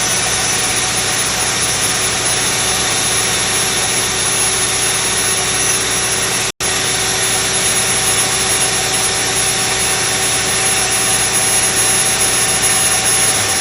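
A jig grinder with a plated grinding wheel grinding a sine plate, a loud continuous steady whine and hum with a stable pitch, broken only by one instant dropout midway, no voices.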